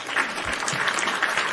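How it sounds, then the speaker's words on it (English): A crowd's round of applause during a live wrestling talk show, a brief, continuous burst of clapping filling the short moment with no voices rising above it. "everyone, a round of applause for him"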